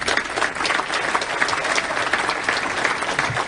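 Loud, sustained applause from a studio audience at a tribute to Roger Ailes, a thick, continuous roar of many hands clapping close by with no voices on top.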